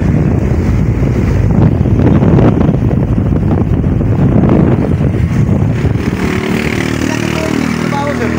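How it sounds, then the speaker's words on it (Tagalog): Strong wind buffets the microphone on a bridge, a loud continuous roar and rumble that eases slightly toward the end. "Grabe yung hangin na guys."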